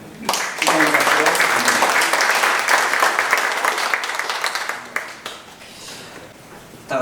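Warm audience applause at a book launch thanksgiving service, dense, loud clapping that swells quickly and holds for several seconds before thinning out, with voices faintly beneath.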